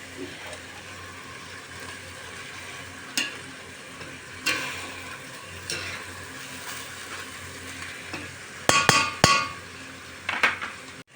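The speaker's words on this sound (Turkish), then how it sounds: "Mercimeği de güzelce kavuruyoruz soğanlarımızı" Lentils and onions are sautéed in a pan: a quiet, steady sizzle with spoon scrapes and stirs every second or so. A few sharper clatters against the pan come toward the end.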